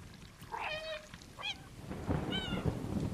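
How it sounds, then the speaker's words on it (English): A cat meows in the video game Stray, two or three clear, tonal calls separated by short pauses over a soft ambient background, with no talking. "I am meowing."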